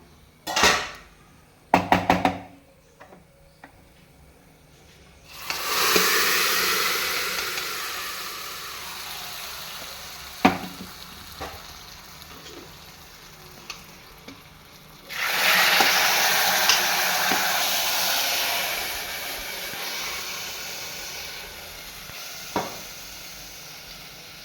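Fried coconut from coconut oil hits a pan of jackfruit erissery, setting off two loud bursts of close sizzling and frying, with scattered clanks of a utensil against the pan between them and no talk.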